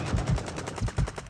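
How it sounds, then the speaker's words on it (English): Rapid automatic gunfire in Call of Duty Warzone on Ashika Island: a dense, continuous burst of shots with heavy low thumps, loud and close, with no talking. "I'm taking fire"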